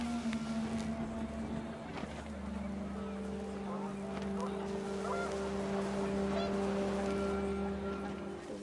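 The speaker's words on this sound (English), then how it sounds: "The wind picked up, and panicked geese appeared and quickly went." Panicked geese honking in the video game What Remains of Edith Finch as the wind picks up outdoors: scattered honks ride over a steady low droning hum and windy background for several seconds.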